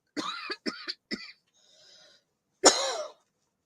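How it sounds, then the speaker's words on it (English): Three harsh coughs in quick succession, a short wheezy breath, then one louder final cough. Close and isolated. "Somebody's coughing."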